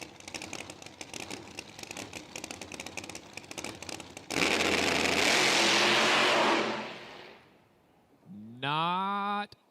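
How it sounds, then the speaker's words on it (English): A drag racing car at a PDRA Drag Wars event launches hard and roars loudly for a couple of seconds under a crowd's din, then cuts off abruptly; a rising engine rev follows near the end. "Fletcher Cox drops the hammer, and that car did not sound happy."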